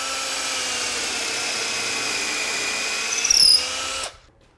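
A power drill whines steadily and loudly while boring dowel holes into the edge of a wooden board, rises briefly in pitch near the end, then stops abruptly and leaves near silence.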